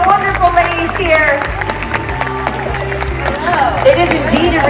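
Comic con crowd clapping steadily in a large hall, a short burst of applause mixed with murmuring voices and a host speaking over it.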